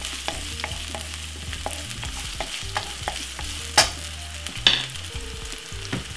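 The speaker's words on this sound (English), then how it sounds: "Give it a quick stir." Spring onion stirred in a hot frying pan at medium heat, a soft steady sizzle under irregular scraping and tapping of a utensil against the pan, with two sharper knocks, close and with no talking.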